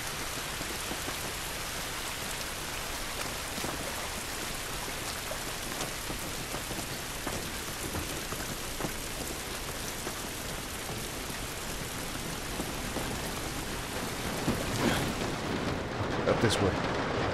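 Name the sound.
rain in video game The Last of Us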